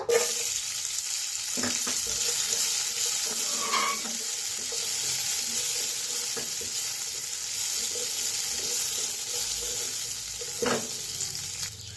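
Dry fruits fry in ghee in a frying pan, giving a steady close sizzle with occasional stirring scrapes and clinks throughout.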